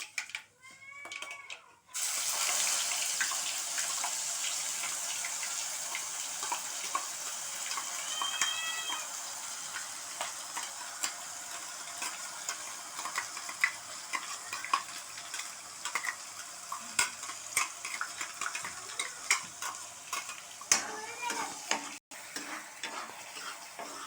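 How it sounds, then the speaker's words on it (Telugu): Mustard seeds splutter in hot oil with a steady crackling sizzle and scattered sharp pops, moderately close, while a cat meows several times nearby. "ఆవాలు బాగా చిట్టుపట్టంటే పచ్చివాసన లేకుండా ఉంటాయి."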